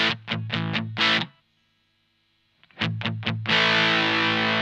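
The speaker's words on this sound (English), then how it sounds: "if you are using it in a higher overdrive sound" Electric guitar played through a Tym Guitars Overdriverer pedal set for high overdrive: a few quick distorted chord stabs, a short silence, then another burst of stabs ending in a loud sustained crunchy chord, all close and full.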